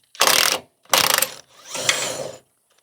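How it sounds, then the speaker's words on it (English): A ratchet turns a wheel bolt on a John Deere zero turn mower with no flat front tires, three close, loud bursts of rapid clicking, the last one longer. "you could use a 1/2-inch ratchet if you want"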